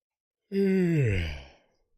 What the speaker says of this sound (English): I'm even yawning on the mic.